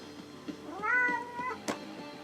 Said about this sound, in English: Now the cat's trying to jump on the bed.